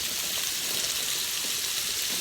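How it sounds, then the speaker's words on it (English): Shrimp hit a hot frying pan with a steady, loud hiss of sizzling oil that holds evenly without a break and no voices over it. "I'm going to take these shrimp, and I'm going to just add it to my pan"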